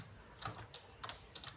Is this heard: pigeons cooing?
no